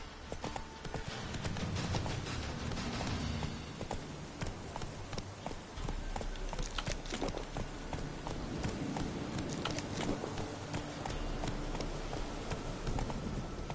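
Horse hooves gallop in a steady, rapid clip-clop rhythm through a video game countryside in The Witcher 3: Wild Hunt, close and continuous over a dense game soundscape for the whole stretch.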